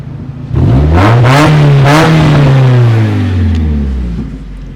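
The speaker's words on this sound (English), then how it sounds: "Let's listen to that straight pipe." A Mazda Miata with a straight-pipe exhaust revs hard, climbing to a loud, raspy peak, holding briefly, then sliding back down as the engine settles into a steady drone, close and unaccompanied by talk.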